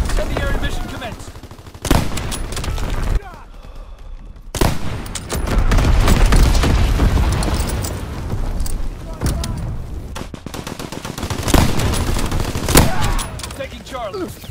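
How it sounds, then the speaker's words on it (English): Artillery battery and other gunfire booming and rattling in a war video game, dense overlapping blasts and bursts with brief lulls, loud throughout under faint game voice callouts. "Firing primary battery."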